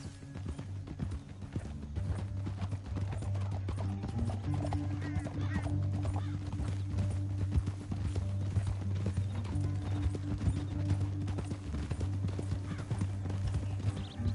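Hooves clip-clop in a steady rapid rhythm throughout, under a low droning game soundtrack, with a horse's whinny briefly in the mix.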